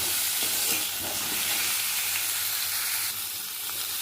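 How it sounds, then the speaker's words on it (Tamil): Chopped tomatoes sautéing in an oil-filled pan for a Tamil bottle gourd curry, giving a steady, close sizzle with faint stirring scrapes, no talk. "இந்த தக்காளி நம்ம இதில் ஆட் பண்ணிக்கலாம் ரொம்ப பேஸ்ட் மாதிரி ஆகணும்னு அவசியம் இல்லைங்க லைட்டாக வதங்கினா போதும்"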